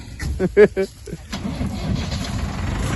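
A brief voice is followed by a tractor engine turning over and settling into a steady running rumble.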